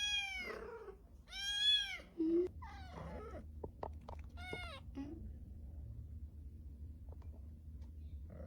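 A pregnant stray cat meows several times up close, with clear, drawn-out cries in quick succession, then quieter small sounds in a calm indoor space.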